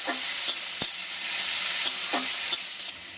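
A spoon scrapes through a pan of leftover rice cooked with carrots, frying over a continuous close sizzle, with a few distinct stirring strokes and no voices.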